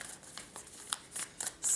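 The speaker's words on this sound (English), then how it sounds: "you can focus on me shuffling the cards" Tarot cards are shuffled by hand, giving a few short, crisp riffling bursts close by, with quiet gaps between them and the loudest burst at the end.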